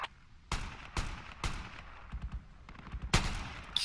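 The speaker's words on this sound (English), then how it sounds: "Just keep shooting at him, guys." Gunfire in the Project Reality mod for Battlefield 2 sounds as a handful of loud, sharp individual shots spaced apart, with fainter scattered firing between them.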